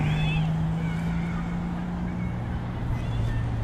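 Steady wind noise buffets the open air during power kiting, a broad continuous rush with a low sustained drone underneath, close and fairly loud throughout.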